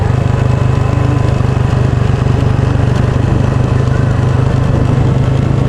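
A motorcycle engine drones steadily on a steep downhill road at Don Victoriano, Mindanao, with a constant low hum and no change in pitch, loud and close throughout.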